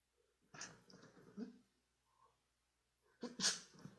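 A single person sneezes close to the microphone, preceded by a few soft breathy sounds and faint murmuring, ending in a sharp, loud burst.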